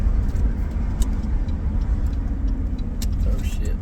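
Steady road traffic rumble of cars heard from inside a slowing vehicle as traffic comes to a stop, a continuous low engine drone with faint ticking, a voice murmuring underneath.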